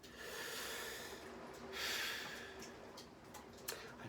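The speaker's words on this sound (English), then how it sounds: "Okay, slow breath." One slow, deliberate breath taken to calm down, a long soft inhale swelling in the middle and easing into a gentle exhale, close and quiet.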